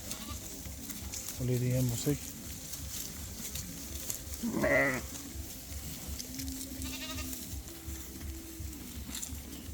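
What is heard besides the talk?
Hisor sheep and rams bleating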